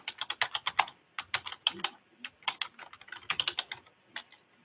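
Rapid, light tapping on a computer keyboard as a student enters record book information, irregular quick clusters of keystrokes with short pauses, close and fairly soft, with no voices.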